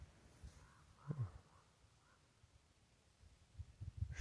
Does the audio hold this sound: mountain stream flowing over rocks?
no